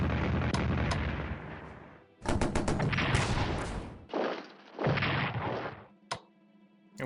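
Artillery shells pounding enemy trenches in a WWI strategy game, a series of loud booming blasts in close succession with sharp rattling reports between them and brief pauses of quieter rumble.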